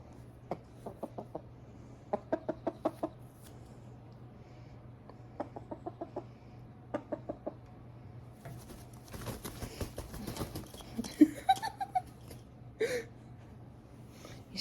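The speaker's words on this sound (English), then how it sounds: "Emotional support chicken." A pet chicken clucks in short, soft clusters of rapid notes, repeated several times close by in a quiet indoor space, followed by some scuffling and rustling movement.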